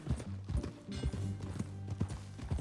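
In Red Dead Redemption 2, a horse's hooves clip-clop at a steady walking pace, close and distinct, with each footfall landing as a sharp knock in a regular, rolling rhythm.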